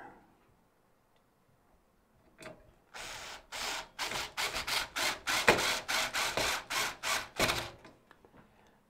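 A powered screwdriver on its lowest torque setting drives a screw into a PC case standoff, giving a quick run of about a dozen sharp ratcheting clicks after a quiet start.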